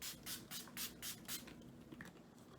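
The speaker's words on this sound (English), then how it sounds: "I'm gonna spray my e.l.f. setting mist and spray." An e.l.f. makeup setting mist sprayed in five quick, soft hissing pumps close by in a quiet room, followed by a couple of fainter sprays.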